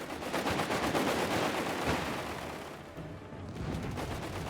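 Matilda tank firing in Company of Heroes 3, its shot folded into dense battle gunfire, with rapid machine-gun bursts and booming shots rattling on throughout, loudest early and thinning slightly toward the end.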